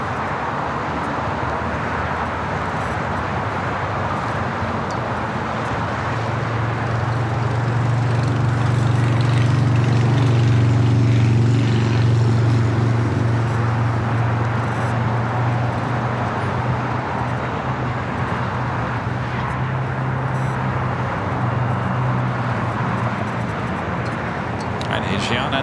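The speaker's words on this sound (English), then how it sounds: "Asiana cleared for takeoff on 25 left." An Asiana airliner takes off on runway 25 left at LAX, its engine roar swelling to a loud, steady rumble and then easing off, heard from a distance through background noise.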